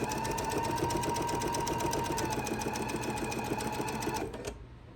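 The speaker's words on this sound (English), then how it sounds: "I'll be able to just sew all the way down that side." A sewing machine stitching down the side of an apron runs at a steady, fast whirring rhythm, close and continuous, then stops abruptly near the end and leaves only faint room noise.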